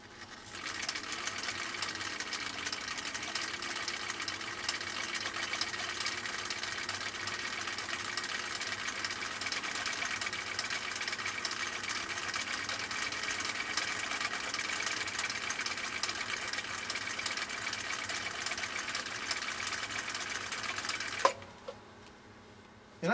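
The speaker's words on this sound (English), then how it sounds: "I'm just giving it kind of an even rhythmic type sewing speed, but we could certainly sew faster if we wanted to" A 1959 Husqvarna Viking CI-21A sewing machine stitching with cam C runs at a steady, even speed for about twenty seconds, a continuous close motor whir with rhythmic needle ticking, then stops abruptly with a small clunk near the end.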